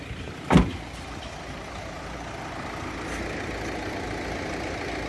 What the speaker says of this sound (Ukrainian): Покажу, як працює двигунчик.